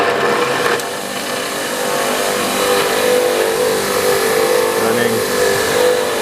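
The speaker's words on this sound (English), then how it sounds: "Test video on the 3000 revs per minute 220 volt grinder." A 220-volt grinder rated at 3000 rpm running steadily, giving a loud, continuous whine and hum close by without pause.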